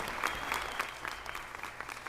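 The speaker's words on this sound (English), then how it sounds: "one more huge round of applause for these phenomenal women who have dedicated their entire lives to our city and to our communities" Applause in the Los Angeles City Council chambers for honored women, a steady mass of clapping from a sizable crowd with sharper nearby claps standing out, fairly distant and even.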